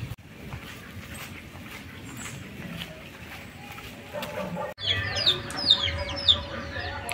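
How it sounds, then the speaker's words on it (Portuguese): Chickens cluck on a small farm with wet ground, clucks and squawks rising in the second half, close and fairly loud over a steady outdoor background with some talking. "Do jeito que as galinhas gostam pra tá ciscando."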